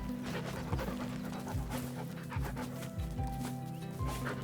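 A sled dog in The Red Lantern video game pants in quick, rhythmic breaths close up, alongside a low steady hum, with no one talking.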